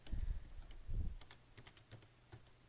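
Keys clatter on a computer keyboard as someone types, with a couple of heavier thumps at first and then a quick, uneven run of light, close clicks and no talking.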